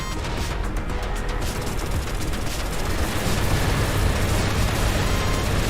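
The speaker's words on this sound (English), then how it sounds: "Explosion for giveawayer." Dense, sustained explosion rumble from the space game EVERSPACE 2, a loud continuous roar of blasts and debris lasting several seconds with no voices over it.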